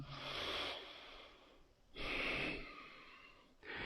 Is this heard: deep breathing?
yes